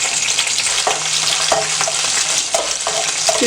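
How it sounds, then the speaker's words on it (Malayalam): Raisins crackle and sizzle in hot ghee, a loud, continuous frying hiss close at hand with occasional sharper pops and spoon scrapes as they are stirred. "ഇനി നമുക്ക് കിസ്മിസ് ഇട്ട് കൊടുക്കാം."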